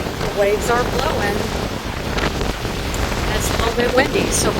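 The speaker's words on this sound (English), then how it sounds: "It's a little bit windy." Steady gusting wind from Tropical Storm Arthur on the Texas coast roars across the microphone with broadband rumble, while faint voices and a hint of wave noise sit underneath.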